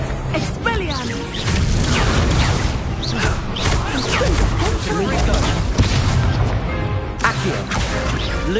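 Spell-casting effects and explosions from the Hogwarts Legacy video game form a dense, continuous barrage of whooshes, booms and crashes throughout, with a voice shouting spell names over the clash.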